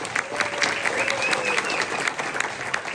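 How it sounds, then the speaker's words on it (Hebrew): Audience applause fills a hall at an evening event honoring people on stage, a dense, steady clapping from a large crowd that carries on throughout without any pause. "בבקשה נזמין לבמה עם מחיאות כפיים"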